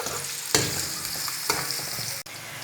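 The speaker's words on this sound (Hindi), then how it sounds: "और प्याज को ब्राउन होने देते हैं।" Onions frying in oil in a pan for a vegetarian aloo moongray dish, a steady close sizzle with a few louder stirring scrapes and clatters, no voices.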